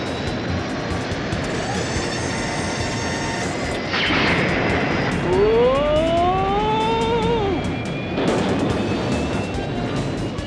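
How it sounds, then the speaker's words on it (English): Aircraft engines rev up during takeoff and rotate in an animated action series, a steady loud roar with a whooshing burst and a rising, then falling whine midway. "Ah yes, smooth takeoff. Now to rotate the engines and..."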